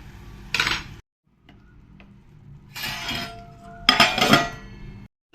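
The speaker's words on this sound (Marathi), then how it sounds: "आता हे झाकण झाकलंय मी" A lid is set onto a pan of raw mango vegetable curry cooking on the stove, giving a few sharp glassy clinks and clatters in short bursts against a quiet kitchen background.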